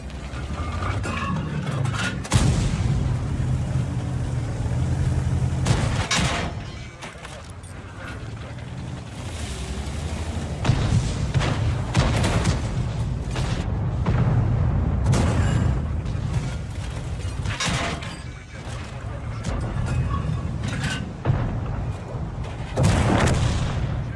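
The cannon of an SZDV Vz. 50 tank fires in a video game: several sharp, loud booming shots at irregular intervals, spaced across mechanical clanks and a low engine rumble.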